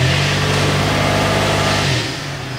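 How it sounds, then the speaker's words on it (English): A car engine held at high revs during a brake torque test, a loud, steady strained drone that drops abruptly toward idle near the end, with no one talking. "I'm going to brake torque it again."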